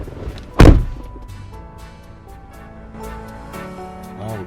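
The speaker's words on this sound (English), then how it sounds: "How would this guy hit my door like this?" A door slammed hard indoors gives one loud, heavy bang near the start, then a quieter tail of room noise and small knocks.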